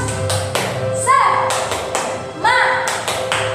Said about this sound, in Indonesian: Sekali lagi, tepuk semangat.